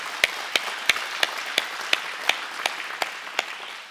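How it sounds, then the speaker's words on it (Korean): Church congregation clapping in thanks during a Sunday worship service, about a dozen sharp, evenly spaced claps in a steady rhythm, fairly close and loud against a quiet room. "우리 감사의 박수 한번 합시다."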